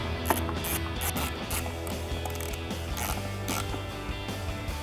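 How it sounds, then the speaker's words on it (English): Ratchet driving a T15 Torx screw into a 2005-2013 Corvette tail light, a close, steady run of quick mechanical clicks with brief pauses between strokes. "We'll reinstall our T15 torque screw."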